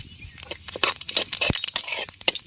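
Bay leaves and whole cumin seeds go into hot oil in a home kitchen and crackle with quick, sharp pops and spits, close and fairly loud.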